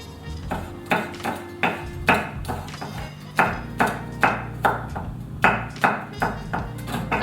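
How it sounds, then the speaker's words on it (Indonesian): A knife coarsely chops garlic on a board, loud close rhythmic thuds in steady regular strokes with a brief pause midway, alone without talk. "Pertama, yang saya lakukan adalah saya chop dulu bawang putihnya,"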